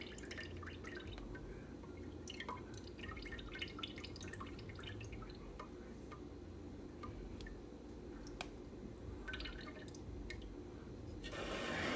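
Whey pours and drips steadily off homemade ricotta cheese for several seconds, with small splashes and trickles close by, growing slightly louder and fuller near the end.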